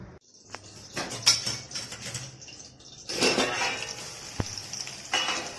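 A lid set on a kadhai of chillies in hot oil, with a few sharp metallic clinks and knocks over a soft crackle of frying, close, with a louder clatter around the middle.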